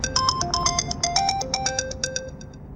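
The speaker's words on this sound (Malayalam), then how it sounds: "ആ ഫോൺ എടുത്തിട്ട് ആരാണെന്ന് നോക്ക്" A phone ringtone plays a quick melodic run of bright electronic beeps in an even rhythm, clear and close in a Malayalam TV serial scene, with no talk over it.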